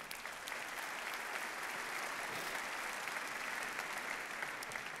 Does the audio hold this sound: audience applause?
yes